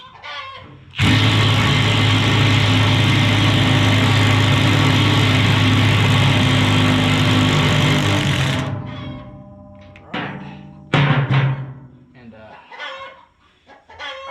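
A 3/8-inch impact driver loosens the blade nut on a Land Pride RCR1872 rotary cutter, giving a loud, steady buzzing whir for about seven seconds before cutting off, followed by a few short clanks.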